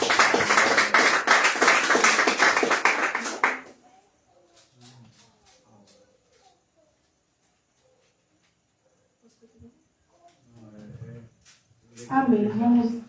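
A church congregation claps hands together in dense, lively rhythm for about three seconds, mixed with voices, before giving way to near silence and a few soft sounds, then voices pick up again near the end.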